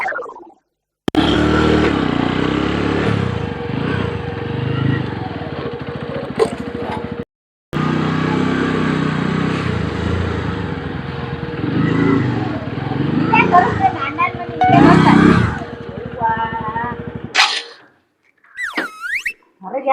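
A motorcycle rumbles and revs close by, with its engine running steadily for long stretches while people talk over it and clatter sounds now and then.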